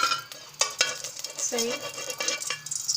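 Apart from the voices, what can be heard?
ghee being spooned and stirred in a hot pan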